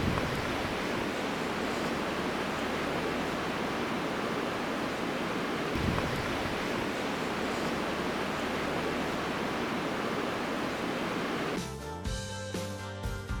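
A river flows beside a willow-fringed campsite at Bogan Flats Campground near Marble, Colorado, making a steady broadband rushing sound that stays close and constant, with a brief mechanical rattle near the end.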